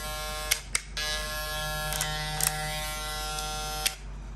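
A Super V SC-1000 electric hair clipper buzzes steadily up close, a constant hum with a few brief clicks and bumps along the way.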